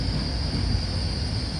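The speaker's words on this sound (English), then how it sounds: "There's a train to bring our little wander" A train passing during a New Year's Day walk, a steady loud rumble of rolling wagons with a thin high whine over it, close by and unbroken for the whole stretch.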